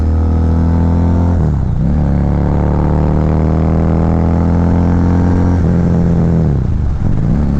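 A 2009 Harley-Davidson V-Rod cruiser accelerates on a test ride, its close, loud engine rising steadily in pitch, dipping briefly at two gear changes, then climbing again.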